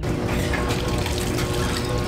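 About a quart of white vinegar poured to wash hard yard-fowl meat for a Guyanese curry, a continuous close splashing, gushing liquid stream lasting a couple of seconds.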